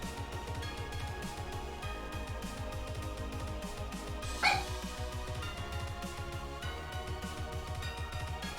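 A dog barks repeatedly in a steady rhythm through the whole stretch, the yaps running close and persistent beneath a louder, denser wash of sound.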